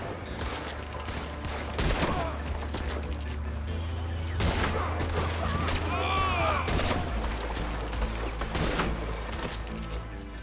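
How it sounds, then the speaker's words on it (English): Gunfire in the video game Red Dead Redemption 2, a continuous crackling volley of shots and bangs at moderate loudness over a low background rumble. "oh my god, what are they shooting?"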